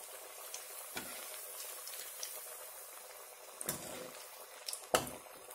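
Banana flower vadai frying in hot oil, a steady soft bubbling sizzle running throughout with a few brief stirring or flipping clatters.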